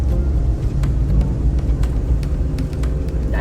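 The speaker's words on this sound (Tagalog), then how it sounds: "So takbo ulit ang sasakyan." A minivan cruises along the road, its loud, steady engine drone and tire rumble filling the cabin, with faint clicks and rattles over it and no talking.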